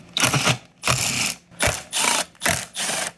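A ratchet loosening 10mm bolts on the engine heat shroud of a Cub Cadet or Troy-Bilt snowblower, heard as five close, rhythmic bursts of rapid clicking separated by short pauses.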